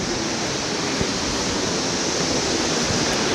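Big Spring in the Ozark National Scenic Riverways pours out a huge volume of water, making a dense, steady, loud roar of rushing flow close at hand, with no break and no voices.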